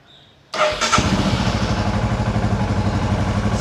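A Royal Enfield Scram 411 motorcycle fires up after a brief starter crank and settles straight into a steady, loud, close single-cylinder idle with an even thumping rhythm.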